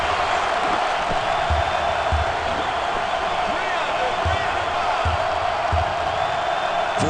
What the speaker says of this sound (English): the home crowd really isn't happy